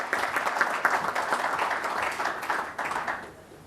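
A conference audience at an international galvanizing event claps for an honored guest, the minister, with dense, even applause that holds for a few seconds and then fades away.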